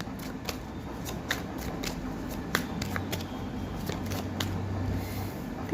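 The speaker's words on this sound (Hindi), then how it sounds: "तो यहाँ से मैं 5 कार्ड लूँगी गाइस। एक कार्ड आ चुका है, अपने आप ही गिरा है" A deck of tarot cards is handled and shuffled, giving soft, close papery flicks and riffles in an irregular stream with a few sharper snaps.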